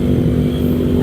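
A motorcycle engine drones steadily during a road bike race, a loud sustained rumble that stays close, with no break over the short stretch.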